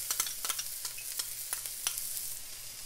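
Onions and garlic stirred as they fry in hot oil, a steady sizzle broken by repeated scraping strokes of a spoon at a fairly even rhythm, close and moderately loud with no voices.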